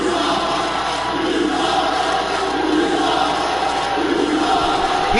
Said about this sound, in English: this crowd letting Brandon Bones know how they feel about these bullshit title defenses